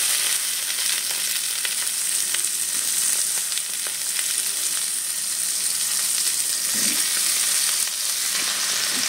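Vegetables fry in hot oil with a loud, steady sizzle that fills the whole stretch, broken now and then by faint stirring scrapes, with no talking.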